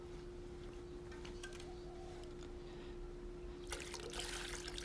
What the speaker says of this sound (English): So just gonna give it a little spin and then pour it more water onto the bottle.